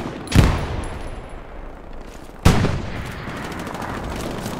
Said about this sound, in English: That tank is just pounding this building.